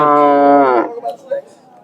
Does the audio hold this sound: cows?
yes